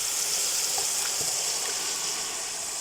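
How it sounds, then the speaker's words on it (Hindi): Garlic ginger paste and marinated chicken sauté in hot oil for a Behari chicken qorma, a steady, dense sizzling hiss that carries on without a break, close and fairly loud, with no voices. "अब 3 टेबलस्पून मैंने लहसुन अदरक पेस्ट के लिए ऑयल के अंदर हल्का सा इनको सौते करेंगे और मैरिनेटेड चिकन इसमें डाल देंगे।"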